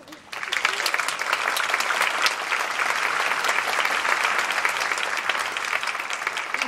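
Audience at the 27th regular concert of Kawasaki Municipal Takatsu High School applauds steadily, a dense sustained wash of many hands clapping that swells in quickly and holds for about six seconds.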